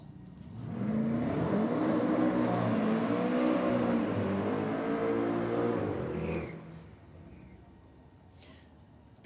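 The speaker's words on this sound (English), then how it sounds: "Big burnout from Joe Sorbello in the Datsun" Datsun drag car doing a big burnout at a drag strip, a loud sustained engine roar with rising and falling revs and tyre screech for about six seconds, then dropping away to a quieter idle.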